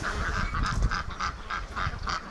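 A group of ducks in a barn gives repeated honking quacks in an uneven rhythm, close and fairly loud, with calls overlapping over about two seconds.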